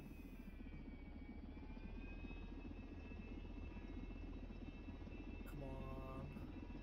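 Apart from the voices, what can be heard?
helicopter rotor in video game SimplePlanes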